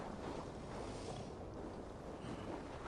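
A steady, soft rush of wind from Assassin's Creed Valhalla blows without pause, faint and even, with a windy hiss and no voices.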